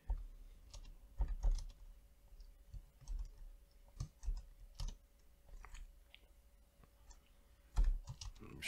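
Typing a tcpdump command on a computer keyboard, with irregular close, soft key clicks in short bursts and pauses and louder taps at times, no talking.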